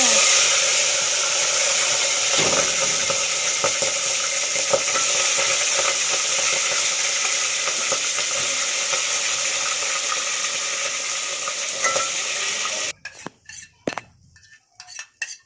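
Goat trotters (paya) fry in hot oil with a steady, loud broadband sizzle and occasional utensil clinks, then the sizzle cuts off near the end, leaving a few sharp clatters.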